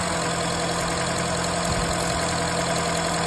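A 2010 Honda City engine runs smoothly after a belt tensioner idle pulley replacement, a close, steady idling hum with a constant whine and no voices.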